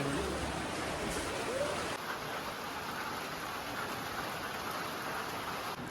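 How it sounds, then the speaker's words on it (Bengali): Steady heavy rain pours down around a hillside homestay, a dense, even hiss that carries on without a break. "ভালোই বৃষ্টি হচ্ছে"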